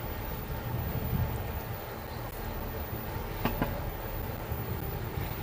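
A SMART commuter train passes as a steady, rumbling roar of rail noise, continuous and moderately loud throughout, with a few faint clicks on top.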